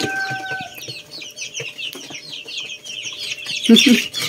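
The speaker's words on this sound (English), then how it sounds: "So we separate them, the bigger chicks, and also the small chicks is over on this side here." Rhode Island Red, Black Australorp and Buff Orpington chicks in a brooder, a dense chorus of high, rapid peeping close by, with one louder burst of chirps near the end.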